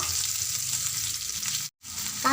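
Onion sizzling in hot oil in a pan with browned urad dal, a steady close crackling hiss that cuts out briefly near the end before resuming.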